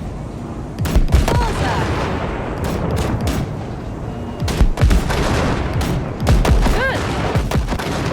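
Rapid bursts of gunfire from blasting shipwrecks in Cyberpunk 2077 ring out loud and near, with booming impacts layered throughout and a voice calling out briefly over the shots.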